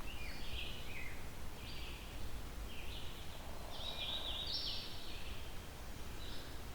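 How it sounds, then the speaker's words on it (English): A loud, songful bird in the Halton Forest repeats short whistled phrases from some distance, faint but distinct above a low rustling background. "It's a loud bird, so it may not be all that close to me."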